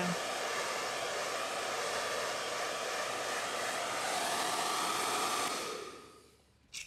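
Hair dryer drying freshly bleached hair, a steady loud close-up blowing roar for about six seconds, then fading and cutting off near the end.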